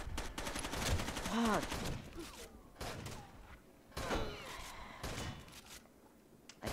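Rapid, overlapping gunfire from a shotgun in the Rainbow Six Vegas 2 video game, with bursts of shots and thuds at moderate loudness. Players talk and exclaim over the firing.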